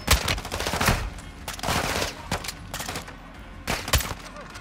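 Rapid gunfire bursts in Call of Duty: Modern Warfare 2 during a prison break mission, loud sharp shots in quick clusters with brief pauses between volleys.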